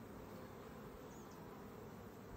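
Honey bees buzzing at an open beehive during a hive inspection, a continuous, even hum of many bees close by with no talk.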